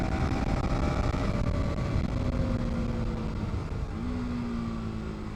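A KTM Duke 250 motorcycle engine drones loudly under heavy wind rush, pitch climbing steadily, dropping briefly, then rising again as it pulls.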